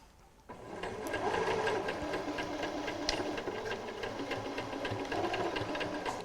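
A sewing machine runs in one continuous fast stretch, stitching a cushion seam beside an earlier row, starting abruptly after a brief quiet and staying close and even.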